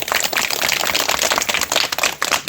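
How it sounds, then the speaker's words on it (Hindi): Students give a teacher a round of brisk applause, many hands clapping in a dense, loud patter that carries on without pause. "थोड़ी तालियां हो जाए।"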